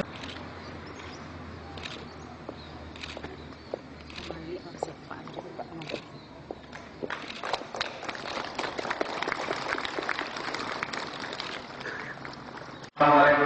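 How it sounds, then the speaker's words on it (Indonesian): Scattered claps at an Indonesian civil servants' assembly build into steady, moderately distant applause for an aid donation, ending with a sharp loud burst. "Kita berikan tepuk tangan yang meriah untuk bantuan."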